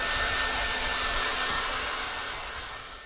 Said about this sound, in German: da fließen jetzt 920 Watt von der Batterie in den Föhn